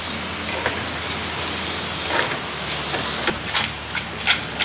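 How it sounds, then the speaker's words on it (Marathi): Steady rain hisses continuously, with a few louder drops pattering now and then. "पाऊस आला तो बघ"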